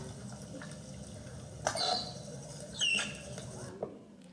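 A baby manatee answers its mother's underwater call with two faint, high squeaky chirps about a second apart, heard through soft watery background noise.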